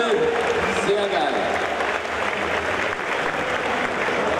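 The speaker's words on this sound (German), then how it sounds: "Und damit hätten wir großen Applaus für Alina." Audience applause at a Gamescom 2014 Blizzard costume contest, a steady wash of clapping from a crowd that runs the whole stretch, with an announcer's voice carrying over it.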